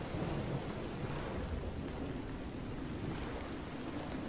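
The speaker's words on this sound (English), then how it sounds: "Oh, no. Thunderstorm." Steady rain hisses and rumbles with low thunder during a thunderstorm in a Minecraft FTB modpack game, a continuous moderately loud wash of noise with no voices.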